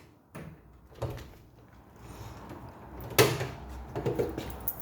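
A barracks door is pushed closed and locked in a few separate knocks and clatters, moderately close, with a louder bang near the middle and lighter rattles after it.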